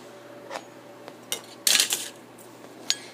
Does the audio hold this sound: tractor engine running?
no